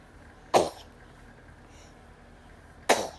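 Two sharp, explosive bursts about two seconds apart, like sneezes or coughs, close by in an otherwise quiet room.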